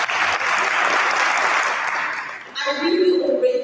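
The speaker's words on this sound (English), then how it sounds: "Give yourselves a round of applause again." Loud, dense audience applause fills a business masterclass for about two and a half seconds, then fades as a person begins talking.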